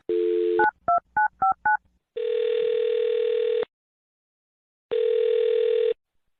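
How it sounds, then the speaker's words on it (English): Landline telephone being dialed: a quick series of five or six short touch-tone beeps, then two long steady ringback tones separated by a pause, clear and close with no talking. "I'm going to dial this phone right now."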